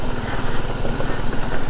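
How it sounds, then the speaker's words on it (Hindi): A motorcycle ridden slowly on a mountain road near Jomsom beside the Kali Gandaki river in Mustang, Nepal, makes a close, steady low-pitched engine putter with an even chugging rhythm. "मैं इतना धीरे चला रहा हूँ ना ये bike because of the tyre"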